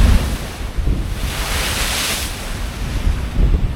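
Surf washing against the rocky shore at Hummanaya blowhole in Kudawella, Sri Lanka, a broad rushing swell with steady wind buffeting the microphone and a low rumble underneath.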